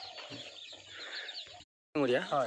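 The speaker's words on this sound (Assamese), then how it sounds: "আমাৰতো এইখন লোকেল মুৰ্গীৰ ফাৰ্ম হয়" Chickens cluck and chatter softly in a steady stream on a local chicken farm, then a short pause before a burst of louder squawking calls.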